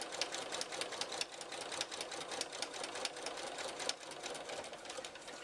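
A sewing machine stitches a seam on a small jelly roll race quilt, running steadily and close with a fast, even mechanical chatter and no talk.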